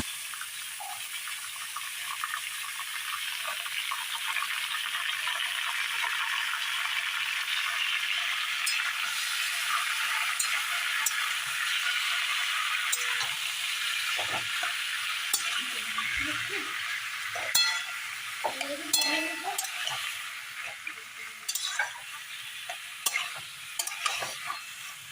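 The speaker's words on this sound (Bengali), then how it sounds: "সেই কচুর শাকটা আমি এটার মধ্যে পুরোটা ঢেলে দেব। ঢেলে দিয়ে খুব ভালোভাবে এটার সাথে মিক্সড করব।" Boiled taro greens tipped into a hot pan and stirred, with a steady frying sizzle throughout and scraping, stirring clatter building toward the end.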